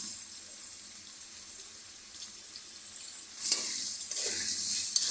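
Homemade noodle ingredients frying in a pan make a steady, bright sizzle that swells louder toward the end, with faint stirring and no talk.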